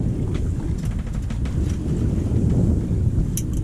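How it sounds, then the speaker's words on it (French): Warm wind blowing across a sailboat on a flat, calm sea, with steady low buffeting against the microphone and faint water noise, heard alone without voices. "Et c'est du vent chaud."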